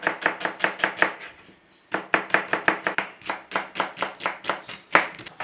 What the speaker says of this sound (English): So we are just going to chop those onions and put them straight in this pan.